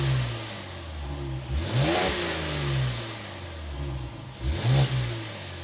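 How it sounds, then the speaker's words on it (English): A 2025 Ram 1500 Limited's twin-turbo Hurricane engine revs twice, two loud throaty bursts of exhaust rising and falling over a steady rumbling idle, close by. "start up this twin turbo Hurricane high performance output so we can hear that exhaust"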